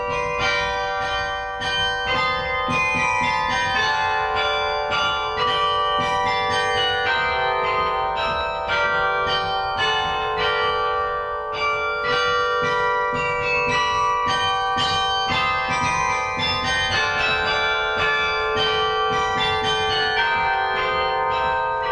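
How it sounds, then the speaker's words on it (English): Church tower bells at House of Hope Presbyterian Church in St. Paul, Minnesota, struck by wire-linked clappers, ring out the Welsh folk song The Ash Grove as a loud, continuous melody of overlapping, sustained tones, with no talk over it. "that wire is attached to a clapper which strikes the bell"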